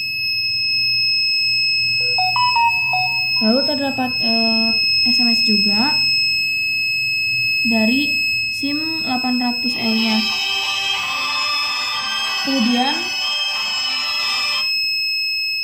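Buzzer alarm on an Arduino-based fire detector fitted with a SIM800L module, a steady bright electronic tone droning through the clip, with a dense harmonic burst near the end, under continuous talk.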